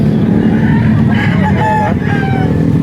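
Roosters crow over a busy chicken market in Lipa, Batangas, the drawn-out calls rising above loud steady crowd noise and traffic rumble.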